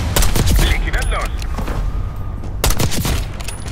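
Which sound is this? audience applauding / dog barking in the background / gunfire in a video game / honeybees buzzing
gunfire in a video game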